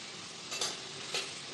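Potatoes fry in a pan with a steady hiss of sizzling and two brief louder bursts as they are stirred, heard without talk.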